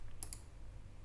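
Computer mouse clicks while editing in Cubase, two quick close sharp clicks in rapid succession over a faint low room hum.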